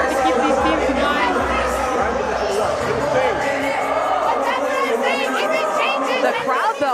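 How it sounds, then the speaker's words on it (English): Packed volleyball crowd in the Barry Center during a pro match, a continuous loud roar of chatter and cheering with a commentator's voice running over it. "The crowd, though, in the Barry Center is going off here."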